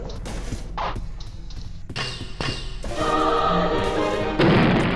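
A bomb goes off in the Roblox horror game Doors, with a run of heavy thuds and crashes building to a loud, close blast at the end, and no talking over it.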